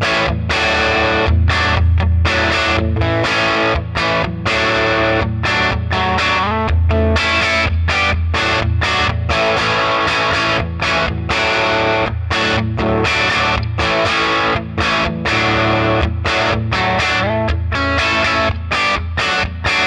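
A Gibson ES-335 electric guitar plays a crunchy, distorted tone through a Milkman Sound Half Pint 5-watt amplifier, strummed chords and riffs with sharp rhythmic stops, loud and continuous without any voice.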